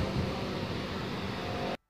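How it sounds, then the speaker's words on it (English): Glen Falls waterfall in Glen Falls Park, Williamsville, New York, near the 1811 mill, gives a steady, dense broadband rush of falling water, fairly loud and unchanging, until it cuts off abruptly near the end. "You can hear the falls in the background."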